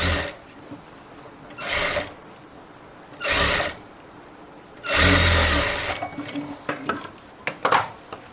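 A sewing machine stitches a garment's side joint starting from the armpit in several short bursts, each lasting under a second, with quiet gaps between and a longer run near the end.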